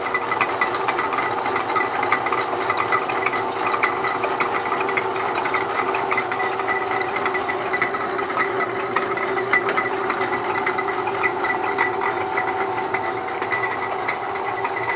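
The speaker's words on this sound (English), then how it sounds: "pretty neat old lathe" An old belt-driven lathe with an 1880 patent runs steadily in a workshop, giving off a continuous mechanical whir and hum with fine rapid ticking and rattle, no voices over it.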